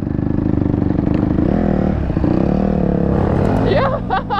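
A dirt bike engine revs loud and close with a buzzing, rattling drone that rises and falls, while voices shout over it near the end.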